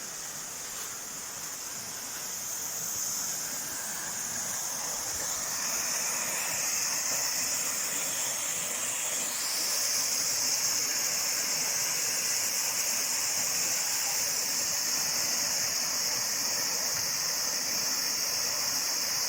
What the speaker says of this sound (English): I see the water coming down from the top.